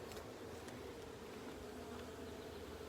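Honeybees hum steadily in an open hive during an inspection, a close, continuous droning buzz with no break, fairly quiet and without voices.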